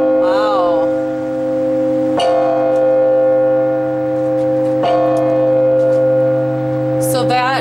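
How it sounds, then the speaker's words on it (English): Church bells, part of a ring of five low-pitched bells, strike with strong sustained tones. Heavy strokes land about every two and a half seconds, each leaving a long humming decay, loud and close with no talk. "So that is with the ringing, but you can also swing the bells?"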